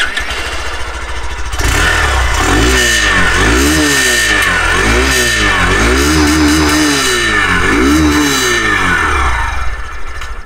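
A Hero Glamour Xtech 125 motorcycle starts up and its exhaust roars as the throttle is blipped several times in quick succession, loud and close, then settles back to idle.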